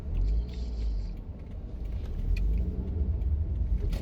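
A car drives through downtown Tampa on Kennedy, heard from inside as a steady low engine and road rumble that swells slightly, with faint rattles and no talking.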